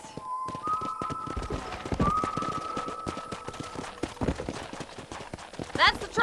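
Horse hooves clip-clop at a steady pace in the Red Dead Redemption video game, joined by background game music and voices talking over the ride.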